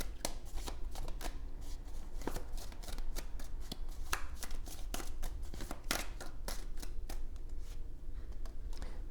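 Tarot cards shuffled continuously by hand, a dense run of crisp riffling flicks and soft slaps at close range, steady throughout with no voices.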